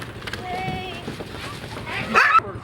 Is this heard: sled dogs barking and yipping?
yes